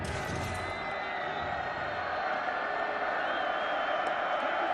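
A large crowd at a college football game at Folsom Field, Colorado against Texas A&M, fills a stadium with a steady broad roar and murmur, with an announcer talking over it.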